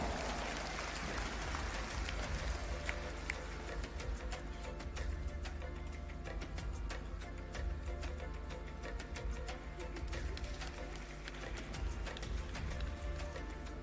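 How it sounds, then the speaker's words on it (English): Sustained crowd applause at the Miss Pacific Islands Pageant 2025, a dense wash of many hands clapping steadily at moderate distance across the whole stretch, with no voices on top. "another round of applause for Miss Samoa."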